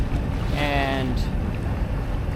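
Sailboat motor sailing up the Malacca Strait, a steady low engine drone mixed with heavy wind rumble against the microphone, and a brief spoken word over it.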